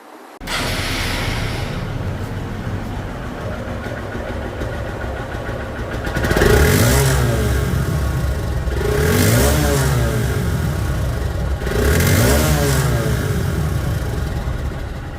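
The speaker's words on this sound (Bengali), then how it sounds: "এখন গাড়িটির সাউন্ড শুনবো সাউন্ড শুনলে আপনারা বুঝতে পারবেন যে গাড়িটির ইঞ্জিন কোয়ালিটি কেমন আছে" A 2021 Hero Hunk motorcycle engine runs loud and close, holding a steady idle and then rising in three strong revs spaced a few seconds apart, each falling back to idle.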